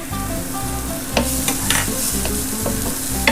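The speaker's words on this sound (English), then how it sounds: "I'll saute it for about another minute" Minced garlic and softened onions sautéing in a pan, a steady close sizzle with sharp scraping stirs of a utensil breaking through from time to time.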